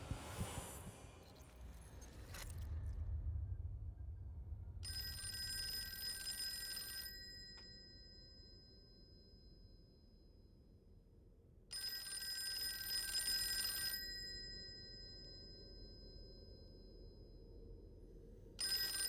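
An old telephone bell rings in two long bursts with a pause between them, loud and alone over a low ambient hum, inside the horror game Call of Cthulhu.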